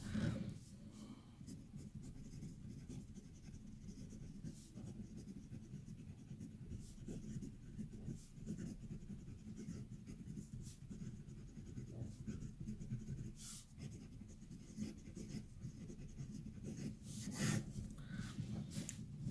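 A Constellations 88 Plasma Clear demonstrator fountain pen with a Bock nib scratches softly across paper, faint continuous rubbing strokes with small pauses, close and quiet.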